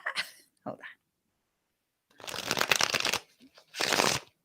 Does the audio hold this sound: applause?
no